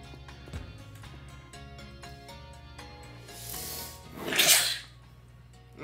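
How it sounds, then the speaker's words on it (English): A single loud sneeze bursts out partway through, a sharp noisy blast over steady Pokémon Sword game music with its looping tones. "Wow, that was a big sneeze."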